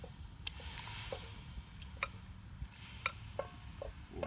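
Onions frying in a pan, a low, faint sizzle with scattered soft clicks and taps of a utensil at irregular intervals.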